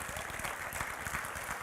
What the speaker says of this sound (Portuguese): Pode aplaudir ao Senhor, irmãos.